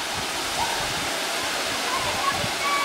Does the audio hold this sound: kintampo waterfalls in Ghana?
yes